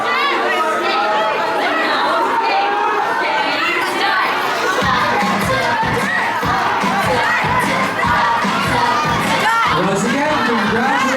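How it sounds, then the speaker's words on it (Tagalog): Crowd of graduates at a class of 2025 graduation ceremony, loud continuous chatter and shouting with children's voices and some cheering throughout, close and dense. "Now there is a crowd."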